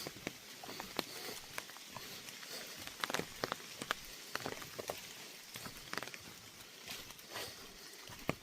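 Rain falling in the misty, humid Smokies, a faint steady patter with scattered sharper drops striking a surface nearby, quiet and continuous with no talking.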